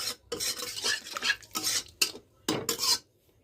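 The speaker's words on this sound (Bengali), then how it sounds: "জল দিয়ে একটু নাড়াচাড়া দিয়ে নেব।" A spoon stirs a pot of fish and paneer kofta curry just after water has been poured in, giving close, clattering scrapes against the metal in several separate bursts with short pauses between them.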